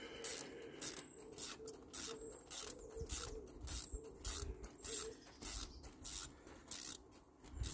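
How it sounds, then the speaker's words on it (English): Socket and ratchet tightening a bolt on a VW LT van's fan belt tensioner, a fast, steady series of close, crisp clicks, with birds cooing faintly in the background. "socket and ratchet."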